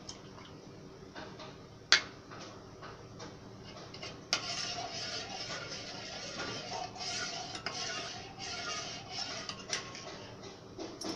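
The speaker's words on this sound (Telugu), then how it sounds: "ఇప్పుడు దీన్ని ఇందులో వేసి బాగా కలపాలి" Almond paste thinned with milk is stirred into a pot of carrot kheer, a spoon scraping and clinking against the metal in steady strokes, with a couple of sharper knocks and a soft simmer underneath.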